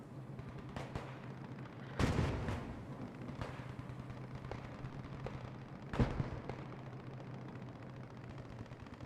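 Distant half-track gunfire in a Post Scriptum battle, with two louder bursts standing out over a steady rumble of scattered shots and battlefield noise.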